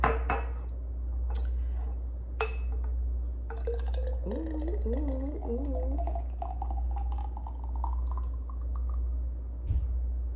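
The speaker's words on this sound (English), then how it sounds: "it's easier for me to pour into my little glass containers here" Thick Alfredo sauce pours steadily, a rising gurgling tone as a small glass container fills, with a few light clinks of glass at the start and end.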